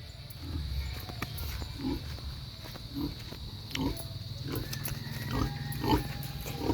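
A pig grunts repeatedly in a rainy yard, short regular snorts about every half second over a steady rain-like hiss, fairly close and moderate in level.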